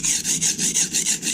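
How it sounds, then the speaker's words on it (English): A chef knife is drawn back and forth on a Norton Crystolon combination oil stone, giving about seven even, loud gritty rasping strokes in a steady rhythm, close up with no talking. "We're going to take our knife. We are going to lay it flat on the stone."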